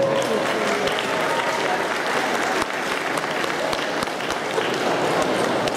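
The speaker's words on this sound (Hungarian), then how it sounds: "Fogadjátok nagy tapsal a színpadon Barát Andrást!" A convention crowd at the opening of an autumn fan festival gives loud, sustained applause as an organizer walks on stage, a continuous roar of clapping with occasional sharp claps nearby.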